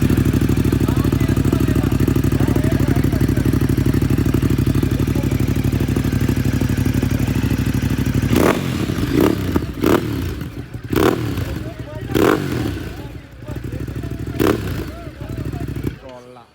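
Motorcycle exhaust note, idling with a steady loud rumble for several seconds, then a series of sharp throttle blips and revs close by.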